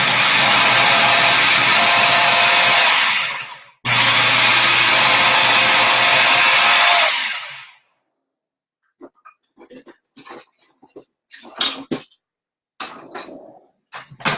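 Food processor blending chickpeas, buffalo wing sauce, Greek yogurt and lemon juice, two loud close bursts of whirring motor with a brief pause between, followed by quieter clatter and scraping.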